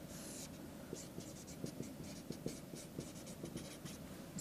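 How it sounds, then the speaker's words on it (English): A pen scratches out a math equation on paper, a series of short, soft strokes in a quick, uneven rhythm, close but faint and heard alone. "So let me write this here."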